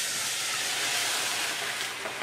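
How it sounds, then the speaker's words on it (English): A hot pan deglazed with Cabernet Sauvignon gives off a loud, close, continuous hissing sizzle that holds steady for a couple of seconds. "And I'm deglazing the pan"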